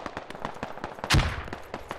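Gunfire in the military shooter Squad, a rapid string of distant cracking shots with one louder, closer burst in the middle, with no talking over it.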